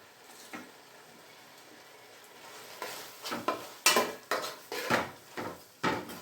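Coriander and spring onion being mixed in a pan, a spoon scraping and knocking against metal in a run of sharp, close clatters that grow louder and more frequent toward the end, with no talk.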